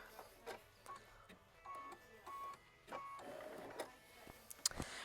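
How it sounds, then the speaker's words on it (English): A sewing machine stitches a quilt block in short, quiet bursts of rapid mechanical clatter, several separate runs with pauses between, close and faint. "sew machine stitch step 9, which is going to tack that down"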